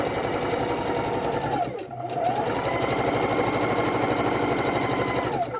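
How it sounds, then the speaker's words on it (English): A sewing machine runs loud and close while stitching a pillow, its fast rhythmic whirr pausing briefly once before resuming steadily. "I'm going to sew right where I left off previously"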